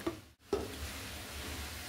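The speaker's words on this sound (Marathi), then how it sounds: "आपण ह्याच्यावर 1-2 मिनिटं झाकण ठेवून ही छान उकळून घेऊया" Hyderabadi paneer gravy bubbles and sizzles softly in a covered pan, a low continuous simmer with a brief clatter near the start, such as a lid being set down.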